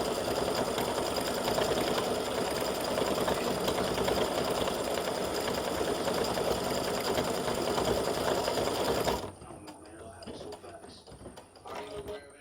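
A sewing machine stitches a triangle clover pendant, buzzing steadily for about nine seconds, then cuts out, leaving quieter faint handling noises and room sound, with a voice heard.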